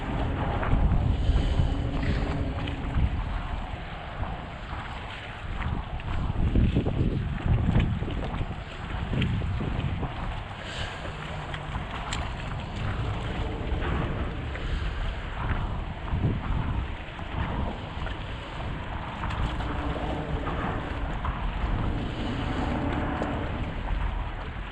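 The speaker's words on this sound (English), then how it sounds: "A little bit of wind out here," Steady wind buffets the microphone on a fishing boat out on the water during a striped bass trip in blizzard conditions, a continuous loud rush with low rumble and lapping waves throughout, no talking.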